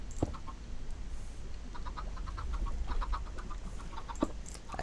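Minecraft chickens clucking in a modded ocean survival world, several short, soft clucks and squawks scattered over a steady low background hum, no talking.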